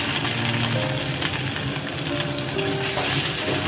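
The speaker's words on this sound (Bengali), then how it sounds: "আগে আদাটা ভেজে নিতে হবে একটু।" Ginger frying in a pan for a sweet and sour tamarind chutney, giving a steady, even sizzle and crackle close by with faint stirring, no voices.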